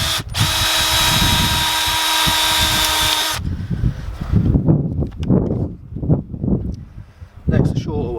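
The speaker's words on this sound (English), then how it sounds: "Put 2 screws in" A power drill whirs loudly and steadily for about three seconds, driving screws into a wooden garden gate on an allotment, then stops and gives way to talk and light handling noises.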